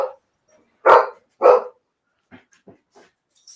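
A dog at home lets out two loud, sharp barks close by, followed by a few soft, faint yips and whimpers.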